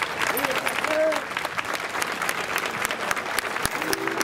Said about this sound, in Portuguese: Peço a todos uma salva de palmas para o Primo Alfredo.